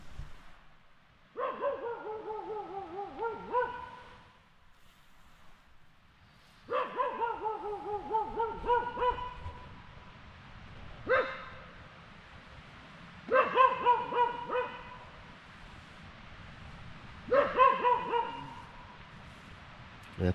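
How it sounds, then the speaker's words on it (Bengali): A dog barks repeatedly outside at night at an adventure camp near Darjeeling, in short bursts of barks and yelps separated by quiet gaps, moderately distant. "চিল্লাচ্ছে কেন কুকুরটা"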